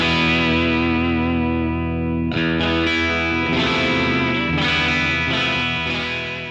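Distorted electric guitar with stock Roswell pickups on a cheap guitar, sustained heavy chords ringing loud and close with effects, no talk.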